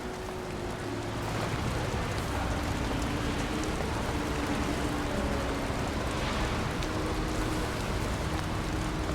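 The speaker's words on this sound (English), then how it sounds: "I still wonder what this rain is" Steady rain falling in the video game Nobody Wants to Die, a dense continuous wash of raindrops with faint low hum beneath, constant and enveloping without pauses.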